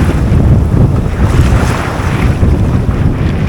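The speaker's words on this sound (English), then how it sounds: "Waves smacked them over here on me" Ocean waves splash steadily at sea with strong wind buffeting the microphone, a loud continuous wash of surf and gusts with no voices.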